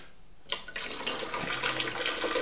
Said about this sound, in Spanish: Bueno, pues añadiremos agua.